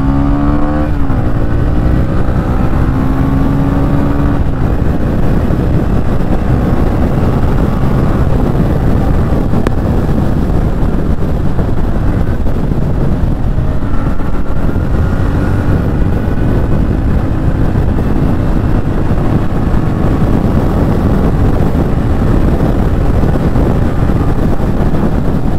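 A 2025 TVS Ronin 225 motorcycle, 20 PS and 20 Nm engine, is ridden on a test run; a steady engine drone sits under loud, continuous wind buffeting across the mic for the whole stretch, with no talking.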